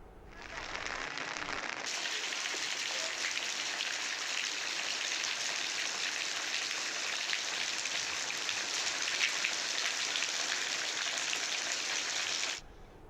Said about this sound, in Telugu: ఎన్టీఆర్ జిల్లా మైలవరంలోనూ విస్తారంగా వర్షాలు కురుస్తున్నాయి.